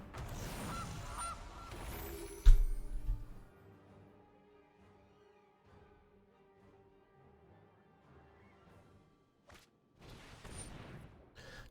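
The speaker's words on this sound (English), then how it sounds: "Another sassy goose." A goose in MTG Arena gives a short burst of honking, followed by a sharp impact and then near silence with faint tones, before another noisy burst at the end.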